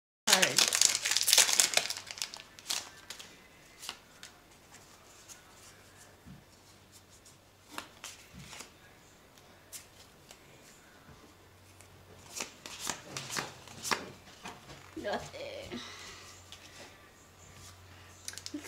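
A Pokemon Lost Thunder booster pack is torn open with a burst of loud foil crinkling at the start, then soft card shuffling, clicks and handling noises continue intermittently at close range.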